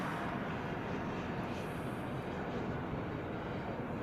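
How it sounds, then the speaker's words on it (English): A Boeing 747 jet flies overhead at Honolulu airport, its broad, steady engine roar loud and continuous without a break. "There's a Queen flying overhead and one on the reef runway."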